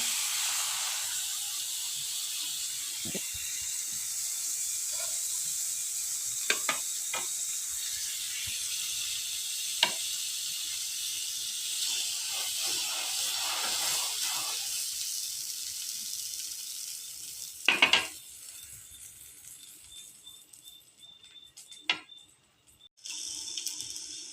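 Pav buns toast in butter on a hot tava for street-style pav bhaji, giving a steady, airy sizzle and hiss with a few sharp pops and clicks scattered through it.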